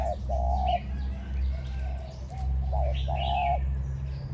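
An old decoy dove with a small, sharp, high voice coos in short repeated phrases close by, against a steady low outdoor hum.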